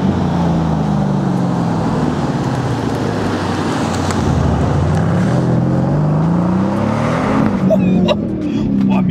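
The engine of the last combustion-powered Mercedes C63 AMG runs with a loud, continuous low rumble that swells and rises in pitch near the end, close to the microphone with no talk over it.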